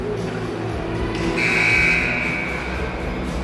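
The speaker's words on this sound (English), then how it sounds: "And then buzzer sounds" A steady electronic buzzer sounds for about half a second over a noisy arena crowd at a youth ice hockey game, fairly far off.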